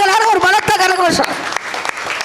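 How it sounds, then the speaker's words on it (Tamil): Audience applause at a spiritual discourse in a temple, a dense wash of clapping that rises midway and carries on steadily after a voice speaks over the opening half. "கோபாலபுரம் மணிமாமாக்கு எல்லாரும் ஒரு பலத்த கரகோஷம்"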